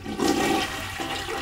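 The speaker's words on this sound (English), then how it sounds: "The poo flushed." A toilet flushes in one short, loud rush of water lasting about a second and a half, heard close up with no talking.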